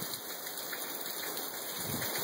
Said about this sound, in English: It's raining now. So it's making it all wet.